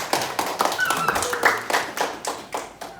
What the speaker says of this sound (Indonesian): kita berikan tepuk tangan untuk Kak Nakia